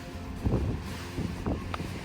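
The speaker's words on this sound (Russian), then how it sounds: "с этой стороны ветер, конечно, очень сильный" Strong wind buffets the microphone on the Ifach mountain lookout near Calpe, a low roaring rumble that rises and falls in gusts, close and fairly loud with no speech.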